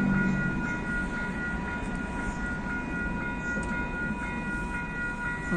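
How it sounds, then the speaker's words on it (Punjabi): A Grand River Transit train pulls into a station in Canada with a steady low rumble and a sustained bright tonal hum, fairly loud and continuous, with no talk over it. "ਉਹ ਆ ਗਈ ਰੇਲ ਆ।"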